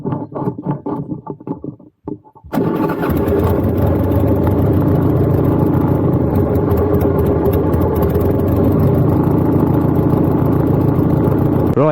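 A Harley-Davidson motorcycle engine starts up after a few faint clicks and then runs loud and steady at close range, a continuous deep rumble with no talk over it.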